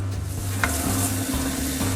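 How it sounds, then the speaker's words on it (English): Butternut squash frying for red curry soup sizzles steadily in a hot pan with occasional scrapes of a spatula stirring, close and continuous with no voices. "I've been frying this for about 4 minutes now"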